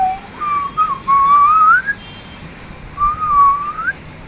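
A person whistles a short melodic phrase up close, with sliding, rising notes in two bursts separated by a brief pause, clear against a quiet background.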